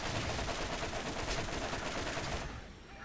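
Rapid gunfire in the Borderlands shooter game, a dense continuous rattle of shots at moderate loudness that thins and fades near the end.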